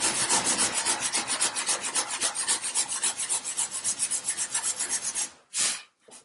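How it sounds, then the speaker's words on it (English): Sandpaper on a round sanding block works a wooden lamb's tongue chamfer in quick, regular back-and-forth rasping strokes, close and fairly loud, then stops, and a couple of separate strokes follow. "I'll clean up these little inconsistencies with a piece of sandpaper on a"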